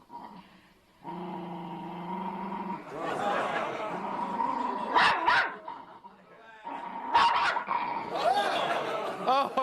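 Aggressive dog barking in repeated harsh bursts with growling between, loud and close, alone with no talk.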